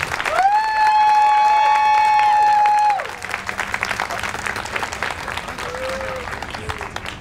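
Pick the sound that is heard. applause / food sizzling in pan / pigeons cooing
applause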